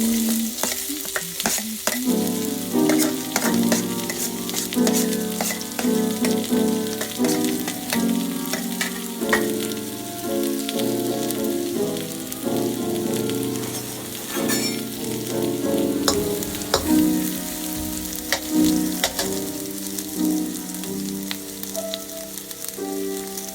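One large onion fries in two spoons of oil on a high flame, a dense, continuous crackling sizzle with frequent stirring scrapes and taps throughout, close and loud, with no speech.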